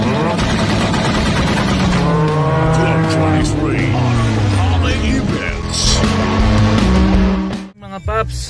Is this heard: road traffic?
yes